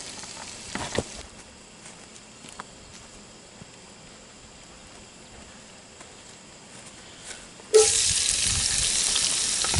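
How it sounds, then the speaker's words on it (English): Onions and peppers hit a hot cast iron Dutch oven for a sausage supper after a long quiet stretch, giving a sudden loud, steady sizzle that fills the end. "then we'll saute up the onions and peppers and add the rest of the goodies to our pot"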